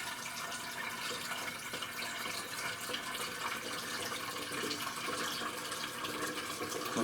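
Merlot wine from a kit being drawn off into a 5-gallon container, heard as a steady, close liquid rush and trickle that continues without a break and with no speech.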